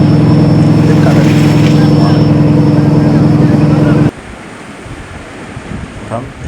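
Sea at Thoothukudi harbour rumbles loudly and steadily with a wind-buffeted roar and a low engine-like drone, then cuts to a quieter, gusty wash of waves for the last few seconds.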